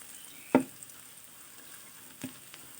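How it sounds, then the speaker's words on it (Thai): Garlic frying gently in oil over low heat, a quiet steady sizzle with a couple of brief utensil knocks, close and alone. "เดี๋ยวกระเทียมมันจะไหม้ ค่อยๆ เจียวไปครับ"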